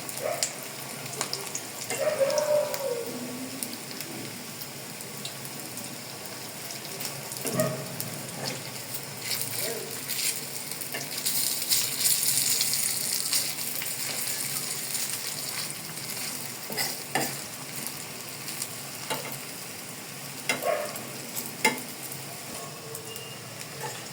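Potato pakora frying in oil in a small wok, a steady, fairly quiet hiss and crackle that runs throughout with scattered sharper pops and clinks, and no voices.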